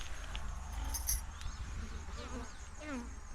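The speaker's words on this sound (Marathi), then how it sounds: "माश्या माशा बघा इथे कशा बाहेर येऊन बसते त्या" Flies buzz around cows near a cattle shed, a faint, wavering drone with a few short passes up close, under quiet outdoor background noise.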